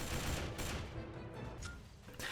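Rapid bursts of gunfire and explosions from the WWII shooter video game Battle for the Pacific, a dense fusillade of overlapping shots played back fairly quietly.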